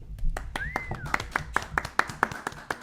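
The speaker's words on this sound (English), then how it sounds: "Awkward applause." Sparse, hesitant clapping from a handful of people, scattered irregular claps that never build into full applause.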